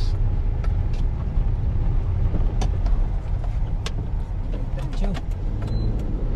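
An oncoming truck passes on the TR4 Expressway in Sariaya, Quezon, heard from inside a moving vehicle as a continuous loud road rumble with scattered clicks, with voices faintly in the background.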